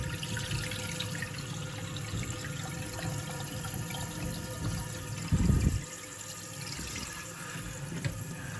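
Water runs steadily into a toilet tank through a newly replaced fill valve after the supply is turned back on, a continuous close rush with one brief louder gurgle partway through, no talking.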